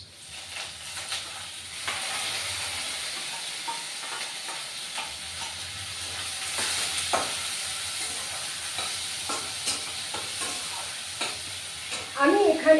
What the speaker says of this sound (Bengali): এবার আমি এই যে পেঁয়াজটা গ্রেট করে রেখেছি, দেখতে পাচ্ছ, এই গ্রেট করা পেঁয়াজটা এর মধ্যে দিয়ে দেবো।